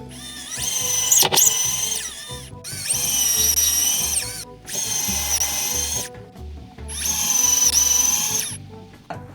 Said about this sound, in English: What comes next? A screwdriver.